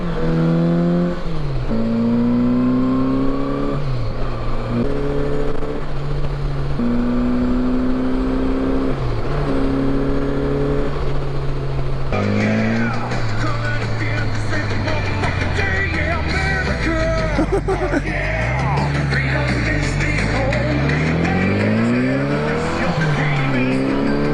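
A loud 1981 Honda GL1100 Gold Wing motorcycle engine runs and revs continuously, its pitch rising and falling through gear changes, with a rough, throaty tone throughout.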